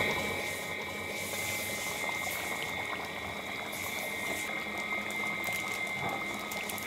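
A mutton and potato curry simmers after warm water is added: a steady, even bubbling and hiss that holds at a moderate level throughout, with no voices.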